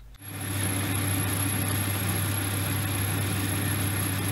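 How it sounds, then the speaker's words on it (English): Metal lathe turning aluminium with a freshly sharpened high-speed steel tool bit, a steady continuous motor hum with a smooth, even cutting hiss throughout, fairly loud and close with no talk. "watch what happens when I try a dedicated high-speed steel tool bit sharpened just right for aluminium"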